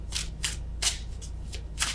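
Tarot cards are shuffled nearby in quick, regular riffling bursts, about six crisp flutters in two seconds over a low steady hum.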